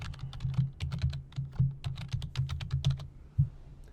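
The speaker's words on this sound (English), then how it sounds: "Type book rep number as the label" Rapid steady typing on a computer keyboard, close and clear, with a dense run of key clacks and one heavier keystroke near the end.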